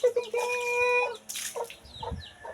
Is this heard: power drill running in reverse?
no